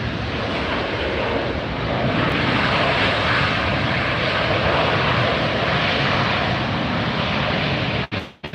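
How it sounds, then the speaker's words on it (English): A Saudia Airlines Boeing 777-300ER arriving from Jeddah at LAX roars past close and loud, a dense, sustained jet rush that holds steady and ends in a sudden handling knock near the end. "Saudia Airlines coming in from Jeddah, 777-300 ER."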